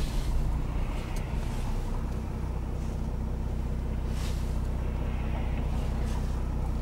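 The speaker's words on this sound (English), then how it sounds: "Just have to wait a minute for some traffic to go by." Road traffic passes by near an overpass above a railway track, a steady broad rumble of engines and tyre noise with wind, continuous and moderately loud throughout.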